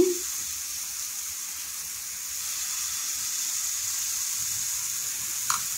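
Banana pancake frying in a pan, a steady even sizzle close up throughout, with a faint clink near the end.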